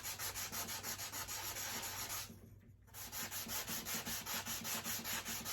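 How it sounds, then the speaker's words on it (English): Sandpaper rubs back and forth over a small craft coaster in a steady rhythm of close strokes, briefly pausing once before the scratchy scrubbing resumes. "if you have a grittier sandpaper, it won't take nearly as long"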